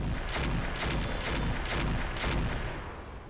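Mech weapons in the Roguetech battle game fire all at once as a dense, sustained barrage of overlapping blasts, pulsing in rapid rhythmic bursts at steady loudness.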